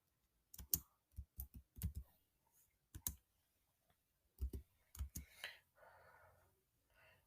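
Manual typing on a computer keyboard: short clusters of crisp close key clicks with pauses between the bursts, plus a faint breathy sound near the end.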